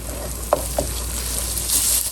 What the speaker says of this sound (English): It always smells so good when the garlic hits the pan.